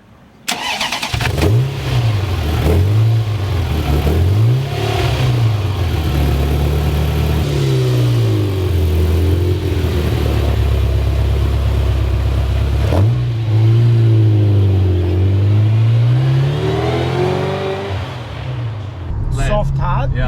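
A Ferrari Mondial T engine starts up and pulls away, revving through several rising and falling gear sweeps, loud and close from inside the car, with people talking over it.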